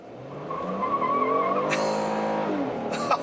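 A 2017 Kia Cadenza SX-L does a burnout on wide tires, with a sustained, loud tire squeal riding over the engine's rising roar, close and unbroken for about three seconds.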